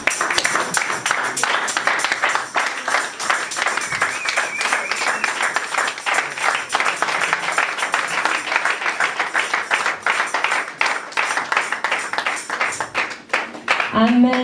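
Congregation at a church youth convention in Alost, Belgium, applauding loudly and without a break, a dense, steady wash of many hands clapping, with voices shouting over it.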